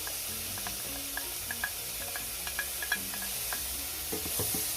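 Tomatoes tumble into garlic frying in a pan, giving a steady close sizzle with scattered crackles and pops, then a louder burst of spattering and stirring toward the end; no voices.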